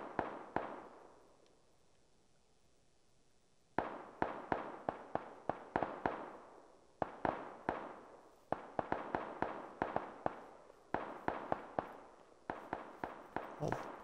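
Gunfire rings out as players shoot each other in PUBG Battlegrounds on Xbox Series X, with sharp, distant-sounding cracks in rapid bursts separated by echoing tails and a short quiet gap.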